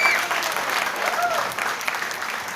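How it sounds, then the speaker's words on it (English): A crowd at a company special event in a shopping mall gives a brief, steady round of clapping, fairly close and even, with some voices mixed in. "Big round of applause."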